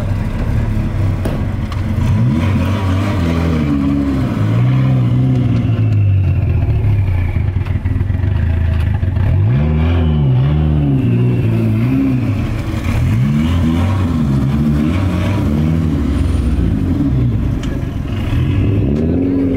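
Cars rolling through a Honda car meet, engines rising and falling in repeated revving sweeps as they pass, loud and close, with a faint mechanical clatter and no talk.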